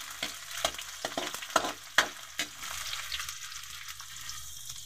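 Garlic and onions sautéing in a pan after ginger, a close crackling sizzle broken by several sharp stirring scrapes and clacks, settling into a softer fry toward the end.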